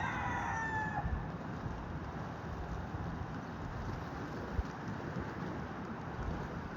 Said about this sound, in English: sometimes it's 4 p.m. in the afternoon that they're crowing